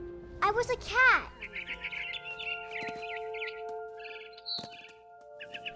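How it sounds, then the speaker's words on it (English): Quick bursts of high video game bird chirps repeating over a steady low hum, fairly faint, after a short voice-like sound at the start. "Then I heard chirping outside my window."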